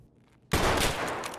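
A single sudden gunshot cracks out in Escape From Tarkov after a quiet moment, loud and close, its report trailing off into a sustained rumbling echo.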